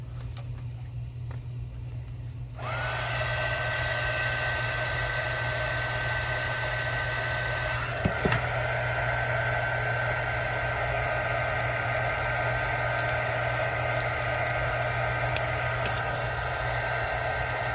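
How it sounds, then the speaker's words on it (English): Heat gun switching on and blowing steadily, a loud, even rushing hiss with a motor whine that runs continuously after a quieter start, with one brief bump partway through and no voices. "Speaking of using a heat gun"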